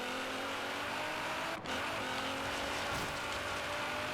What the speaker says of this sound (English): When the car shifts, that little raspy sound it has there for just a split second, that actually sounds like a full-blown GTR.